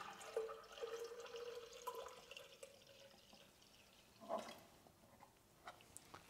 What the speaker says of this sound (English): we have opened now our reactor and we will fill in some liquid